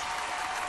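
Applause during an online conference: a dense, steady clatter of many hands clapping together, loud and continuous through the whole short stretch, with no pauses or separate claps standing out.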